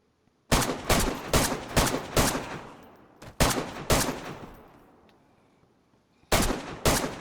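Loud, unsilenced gunfire in DayZ, fired in three quick bursts of sharp cracking shots separated by brief pauses, each burst trailing into a ringing decay with no voices over it.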